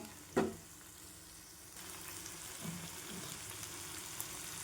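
Masala and fenugreek leaves roast in a pan as a quiet, steady sizzle, opened by a sharp clank of the spoon and followed by soft stirring scrapes.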